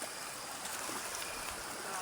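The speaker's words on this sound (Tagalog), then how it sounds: "Lalo hon lumakas ang agos ngayon" A strong river current rushes past in a steady, dense wash of water noise that stays nearby and constant throughout, with no distinct splashes and no talking.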